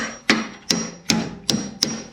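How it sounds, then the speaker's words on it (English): Five sharp metallic hammer strikes ring out at an even pace, each a hard clang with a brief decay, close by: a hammer knocking loose a very rusty rear brake caliper on a 2007 Ford Fusion. "Yep, you're gonna get hit with a hammer."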